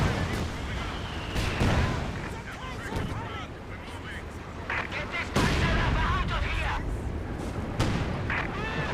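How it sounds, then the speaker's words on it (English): Long-range shots from an M8 Scott gun in Company of Heroes 2, several heavy booms inside a continuous din of battle, with voices talking over the fighting. "A Scot just fired halfway across the map to kill a Panzerwerfer."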